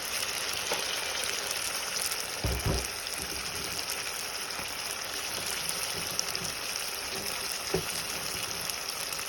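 Potatoes frying in a pan give a steady, even sizzle and crackle that carries on without pause, broken now and then by faint clinks.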